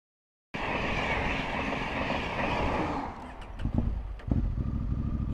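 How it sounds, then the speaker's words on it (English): A train rumbles past at close range on a cycling route, loud and continuous with rail clatter for about three seconds, then fading into scattered clunks and wheel knocks. "There was literally like 5 trains that went past."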